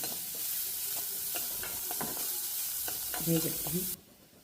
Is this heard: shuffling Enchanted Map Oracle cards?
no